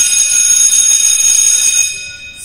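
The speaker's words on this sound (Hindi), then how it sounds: "स्कूल की घंटी बजी, छुट्टी की घंटी" A loud, continuous electric school bell rings steadily for a couple of seconds for dismissal, then cuts off, leaving faint background noise.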